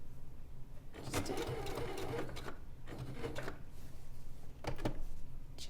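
A sewing machine runs in short bursts, stitching back and forth on a bag to lock the seam with a reverse stitch, with steady mechanical whirring and brief pauses between runs.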